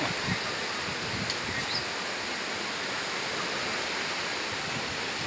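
Steady broadband rush of surf washing over the shore at Chao Lao Tosang beach, Chanthaburi, Thailand, continuous and fairly loud with no voices, like waves breaking and foaming close by.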